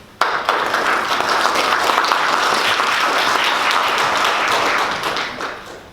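An audience at a Canada-Japan relations policy talk bursts into sustained applause, loud, dense clapping starting abruptly and holding steady for several seconds before tapering off near the end.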